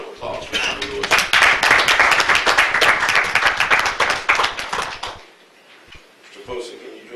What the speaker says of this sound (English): Let's give a round of applause for Johnny Lewis.